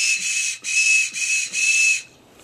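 A handmade whistle gives a loud, shrill steady blast broken into three short pulses over about two seconds, then stops, leaving faint room noise in a classroom setting.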